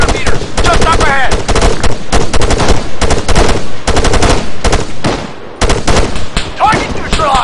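Machine gun fire in the military shooter ArmA 3 hammers out in loud, rapid bursts separated by brief gaps, close and dense, with a sharper burst near the end.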